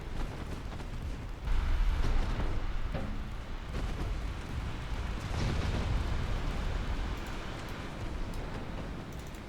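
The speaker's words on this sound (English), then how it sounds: "Javelin fires" A Javelin missile launches and explodes in a naval warfare game during a British campaign, heard as a dense, continuous rumble with muffled booms and blasts and no talk.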